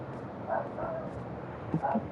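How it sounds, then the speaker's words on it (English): A dog gives a few muffled barks and yips, fairly faint against background room noise. "what are you barking at?"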